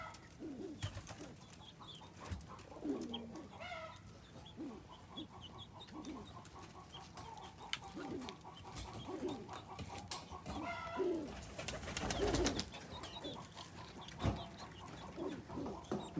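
Pigeons coo repeatedly in a backyard coop shared with ducks, soft rhythmic throaty calls overlapping at a moderate distance amid faint rustling and other fowl sounds.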